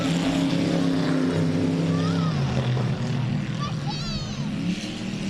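Factory stock cars race around the i-37 Speedway oval, engines roaring loud and steady throughout with shifting pitch as cars pass, while a voice talks over the noise.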